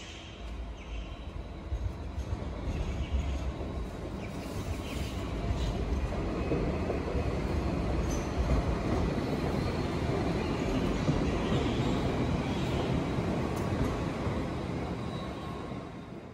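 An Alstom Citadis light rail tram on Sydney's L1 Dulwich Hill Line rumbles past steadily in a deep cutting, a continuous rolling roar that swells and holds for over ten seconds before easing.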